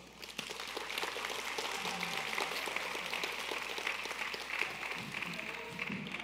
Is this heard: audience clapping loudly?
yes